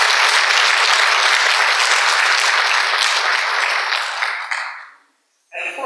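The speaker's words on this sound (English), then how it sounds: "Please give them a round of applause." Loud, dense audience applause at an interfaith iftar gathering, steady for about four seconds before tapering into near-silence, with a brief hint of a voice at the very end.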